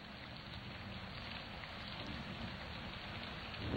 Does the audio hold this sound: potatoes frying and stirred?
no